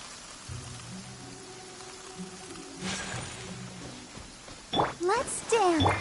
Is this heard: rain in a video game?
yes